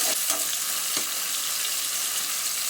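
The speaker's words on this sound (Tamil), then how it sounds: "இதெல்லாம் வறுத்துட்ட உடனே கட் பண்ணி வச்சுருக்க 2 மீடியம் சைஸ் வெங்காயத்தை சேர்த்துட்டு நம்ம நல்லா வதக்கிக்கலாம்." Two medium onions sautéing in hot oil in a pan while making coconut milk rice, a steady close broadband sizzle with a few soft stirring scrapes near the start, no talking.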